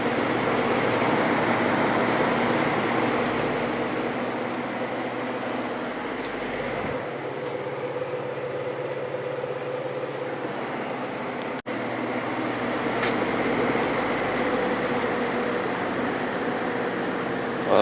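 A repaired vintage GE window fan with a shaded pole motor runs in a steady, even whir with a low mechanical hum, fairly quiet and unchanging except for a brief dip partway through.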